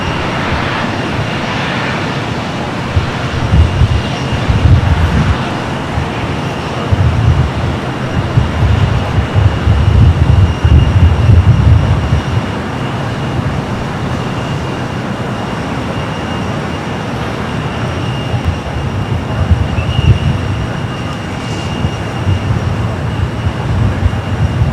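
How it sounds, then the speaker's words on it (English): An SAS Airbus A330 in from Copenhagen rumbles at a busy airport, a sustained low engine roar that swells in the first half, then settles into a steadier distant drone. "Flight 931 and coming up from Copenhagen. This A330 recently updated, painted in that new livery."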